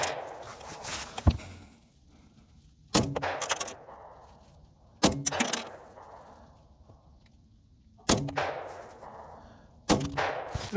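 A SIG P320 pistol fires 9mm rounds outdoors at a long-range target, five sharp, loud shots spaced roughly two seconds apart, each ringing out with a short decaying echo.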